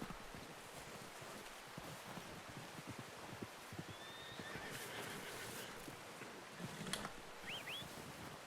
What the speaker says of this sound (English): Where my horsey horse at though?